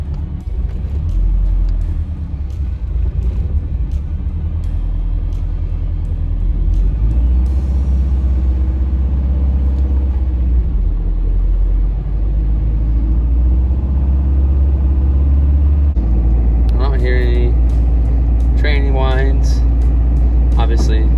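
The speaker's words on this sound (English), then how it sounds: "So I'm gonna actually probably run through the gears on the lift here and see how it goes." A big-turbo 2005 Subaru STI on a lift, engine running through the gears: a loud, steady low rumble with shifting revs, ending in rising whining tones, close and unaccompanied by talk.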